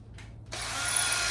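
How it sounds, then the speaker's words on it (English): A small-bit power drill bores into a homemade pooper scooper, whirring up after a brief trigger blip and running steadily loud and close. "I'm gonna take my drill here."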